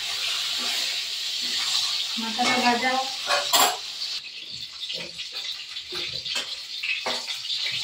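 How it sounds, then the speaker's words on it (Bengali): A fish head fries in a pan of oil, giving a steady, close hiss and sizzle broken by scraping and stirring clatter from a utensil. No one speaks. "সেদ্ধ হচ্ছে আর আমি এখানে মাথাটা ভেজে নেব"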